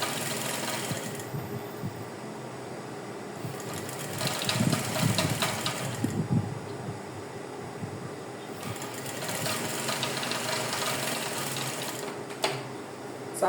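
A sewing machine stitches Ankara fabric to net in a steady mechanical whir, running in two loud bursts separated by quieter pauses, close up and without talk.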